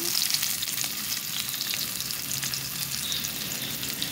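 Garlic and ginger frying in a pan for chicken adobo with Coca-Cola, giving a dense, even hiss of sizzling oil close up, steady and unbroken throughout.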